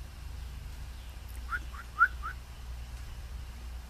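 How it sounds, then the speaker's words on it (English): A small bird gives four quick, high chirps in a row, faint and a little distant, over a low background hum. "Hear that cute little bird up there?"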